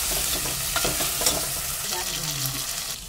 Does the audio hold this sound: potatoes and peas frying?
yes